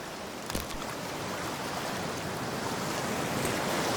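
Cold water in the Cyberpunk 2077 video game makes a steady broadband rush like surf or a flowing stream, with a faint splash near the start, constant and even throughout.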